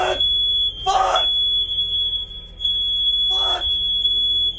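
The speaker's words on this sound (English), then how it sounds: "Oh, the fire alarm!" A fire alarm going off indoors, a steady piercing high beep that runs loud and continuous throughout, with a person's voice cutting in twice over it.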